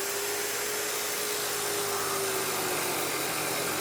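A cheap $100 chop saw runs steadily with a loud, continuous high-pitched whine and broadband roar, close up and alone, without talk.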